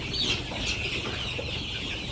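Chickens cluck and squawk close by in a rural home's coop at morning feeding time, a busy overlapping chorus of short calls with no voices.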